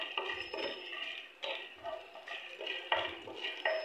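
Urad dal sautés in a pan for coconut-onion chutney, a spoon scraping and clinking against the metal in quick uneven strokes over a soft sizzle, close and fairly quiet.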